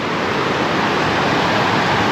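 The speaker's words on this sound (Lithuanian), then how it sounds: "Čia dvi upės susitinka nuo kalnų." Two mountain rivers meeting in the Partnach gorge roar as a loud, steady wash of rushing water filling the whole clip, with no voices.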